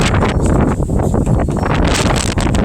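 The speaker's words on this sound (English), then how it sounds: "And here comes the wind." Strong wind gusting outdoors at a building site, loud, broadband rushing and buffeting right on the microphone, continuous with slight surges through its short span.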